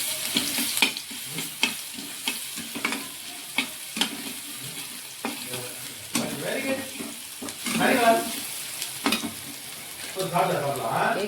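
Ginger garlic paste sizzles in a pan for ragi semiya upma, loud close frying with repeated spatula stirs and scrapes in an uneven rhythm.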